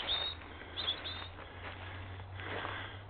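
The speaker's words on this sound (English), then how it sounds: "I hope that wee bird isn't telling them I'm coming." A small bird gives a few high, thin chirps in the countryside near deer, heard at the start and again just under a second in, faint and brief over a steady low hum and soft rustling.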